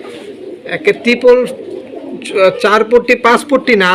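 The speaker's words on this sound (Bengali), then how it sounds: "এই যে দেখেন কবুতরটা" A pigeon at a pigeon seller's coos softly and repeatedly underneath someone talking close by, its low murmurs partly masked by his voice.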